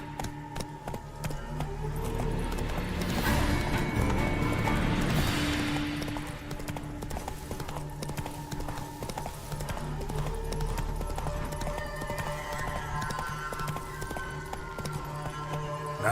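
Roach the horse gallops in The Witcher 3, a steady clip-clop of hooves at close range over a continuous game soundscape, with a brief swelling rush midway.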